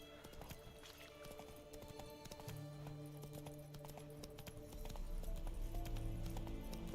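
Horse hooves clip-clop in Witcher 3 as the mount travels along, with a steady rhythmic beat that picks up and grows louder toward the end, alongside game music and ambient sound.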